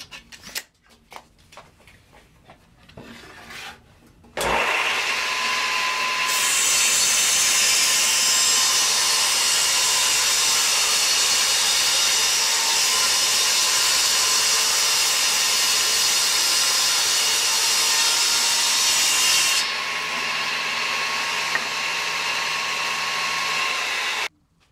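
Power saw ripping a wooden board into two pieces for silhouette decoy V boards, a loud sustained whine running about fifteen seconds after a brief spin-up, then dropping to a lower free-running hum as the cut ends.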